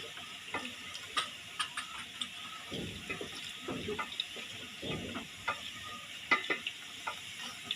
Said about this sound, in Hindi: आप देख सकते हैं प्याज हमारे फ्राई हो चुके हैं।